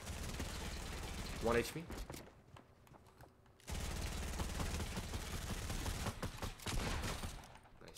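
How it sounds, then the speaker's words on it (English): Gunfire from the video game Fortnite comes in rapid, loud bursts that pause briefly midway and then resume, with players talking over the shooting. "We just started shooting at each other because we didn't know where he was."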